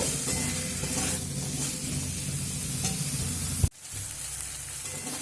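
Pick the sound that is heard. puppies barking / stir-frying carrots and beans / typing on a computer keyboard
stir-frying carrots and beans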